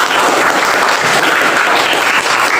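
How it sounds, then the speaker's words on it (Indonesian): Students in a classroom applaud in a loud, dense burst of clapping that stays steady and close throughout. "Tepuk tangan untuk kita."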